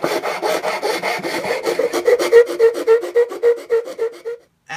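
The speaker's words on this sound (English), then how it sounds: "you may have to make multiple cuts in order to get down to create that recess" Hand saw cutting into wood to make a recess for a cigar box guitar neck: close, rhythmic back-and-forth rasping strokes that speed up into a quick, regular series, then stop abruptly.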